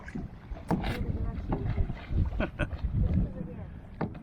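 Paddles dip and splash in lake water from a small boat in a group, with people calling out over the strokes and light wind noise on the microphone.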